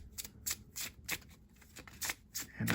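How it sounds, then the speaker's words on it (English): A Mermaid Tarot deck printed on Llewellyn cardstock is shuffled by hand, a run of soft, quick riffling bursts repeating at an uneven rhythm, close and fairly quiet, with no talking. "As you can see, it shuffles really well."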